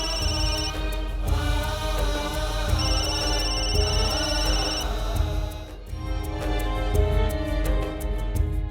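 A telephone rings repeatedly with a bright electronic ringtone, steady and fairly loud, over a low background hum and no talking.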